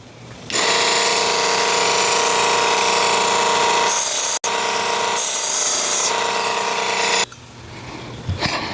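A belt grinder sharpens the unsharpened edge of a knife-like survival tool, giving a loud, steady abrasive grinding hiss in two long passes split by a brief gap, then ending with quieter handling.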